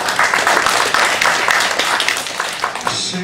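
A poetry festival audience claps for two reciters, steady dense applause filling the whole short stretch with a slight trailing off at the end.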